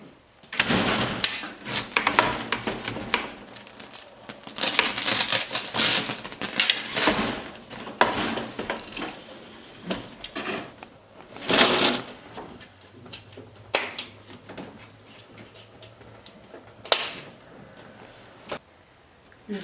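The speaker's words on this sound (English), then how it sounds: "For the door, I'm just going to close it, and then it just lifts right up, and I'll slide it down and flip it up" A pop-up camper door is shut, lifted, slid and flipped, giving a run of scattered clunks, rattles and scraping slides at close range, some sharp and loud, others faint, with quiet gaps between them.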